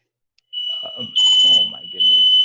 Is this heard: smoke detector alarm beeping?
yes